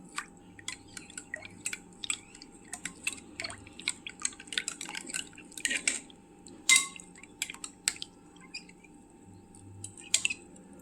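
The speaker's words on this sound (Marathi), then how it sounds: "व्यवस्थित हलवून घ्यायचं" A spoon stirring spiced buttermilk seasoned with amchur powder and black salt, giving quick, light ticking clinks and faint liquid drips against the vessel, soft and close, with no voices.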